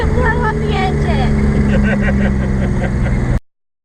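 A turbocharged Datsun 280Z engine revs loudly up close, with rising and falling whines over a steady idle before cutting off abruptly, while a voice talks over it.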